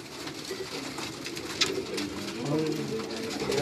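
A Banka pigeon cooing softly nearby in low, rolling coos, with a brief sharp knock partway through and light background noise.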